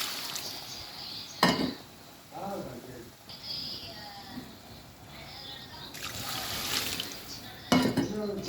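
Water is poured into a cooking masala in a pan, with splashing, sizzling and utensil clatter as people talk nearby.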